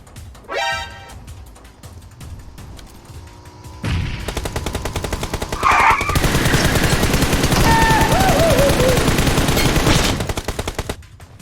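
Gunfire in PUBG Mobile: after a short burst and a lull, loud rapid automatic fire runs continuously for several seconds, close and dominant, with other game sounds layered in.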